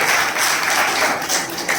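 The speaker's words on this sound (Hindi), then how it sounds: "आजा इसके ताली बजा" A group of people clapping at a program in Malegaon, with dense, steady applause filling the short moment at a fairly loud level and no voices breaking through.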